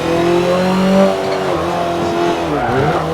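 A Honda car engine in a racing game revs hard toward its 9,000 rpm redline, a loud sustained rising whine with shifting harmonics and a brief tire squeal, heard alone without talk.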